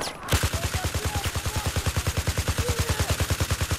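Rapid automatic gunfire from a Battlefield 4 Rush match, a steady stream of evenly spaced shots rattling on for nearly four seconds with no talk over it.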